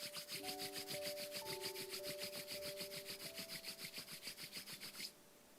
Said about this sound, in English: Start rubbing your palms against each other.